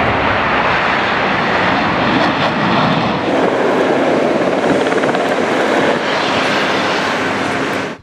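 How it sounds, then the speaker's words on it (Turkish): F-4 and F-16 military jets landing and taking off at an air base: a loud, continuous roaring jet engine rush that stays strong throughout, with a shift in tone partway as the aircraft passes. "Özel misafirlere F-4 ve F-16 pilotları uçakların iniş ve kalkışını gösterdi."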